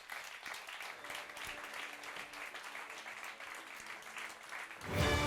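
An audience at a French marketing studies and innovation awards ceremony applauds the award winners with steady, even clapping heard from within the room, which swells louder at the very end.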